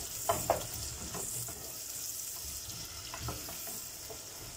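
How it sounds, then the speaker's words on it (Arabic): Chopped onion pieces sizzle in melted ghee with a steady hiss, and a few soft scrapes and knocks of stirring come near the start and again later on. "هنزل بقى دلوقتي بالبصل المتقطع كده قطع صغيره اهو. هقلب فيه بقى لحد ما يدبل معايا خالص."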